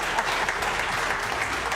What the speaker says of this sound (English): Clap hands again.